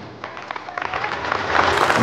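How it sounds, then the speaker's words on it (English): Audience at a school Independence Day celebration applauding after a young girl's dance performance, a short burst of many hands clapping that swells louder toward the end. "Receives a great round of applause from everyone."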